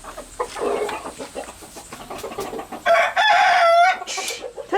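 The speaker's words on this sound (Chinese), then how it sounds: "他在下蛋，你莫弄他噻。" A hen clucks nearby while laying an egg, with a run of short, throaty clucks that builds into a louder, sustained cackling call before it trails off.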